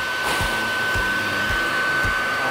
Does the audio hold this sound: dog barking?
no